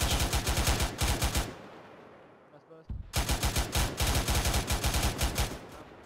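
A machine gun fires long, rapid bursts, loud and close, with a brief pause between two sustained volleys and the echo fading in the gap.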